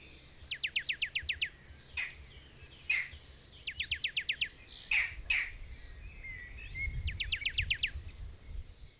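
Wild birds in a Jamaican game reserve calling in three quick rattling trills with a few sharp single chirps between, bright and fairly close over a soft hiss of insects and breeze.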